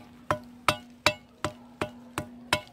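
Seven sharp hammer blows land at a steady, even rhythm, each a crisp close knock that quickly fades, over a faint constant hum.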